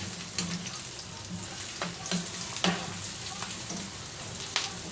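Pork and vegetables sautéing in a pan for dinuguan, a steady close sizzle with occasional sharp crackles and stirring clinks, no talking.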